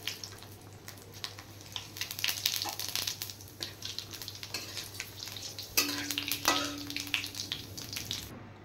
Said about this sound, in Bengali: তাহলে বন্ধুরা তেল গরম হয়ে গেছে, এবার আমি শুকনো লঙ্কা, তেজপাতা আর গোটা জিরে দিয়ে দেবো তেলে।